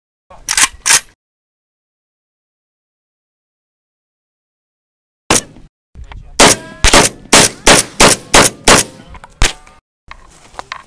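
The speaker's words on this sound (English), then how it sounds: "Alright, I got an AK here. Let's shoot this 360." AK rifle gunfire aimed at an Xbox 360 on an outdoor range: two quick shots, a long silence, then a rapid string of about a dozen loud, sharp reports in an uneven rhythm.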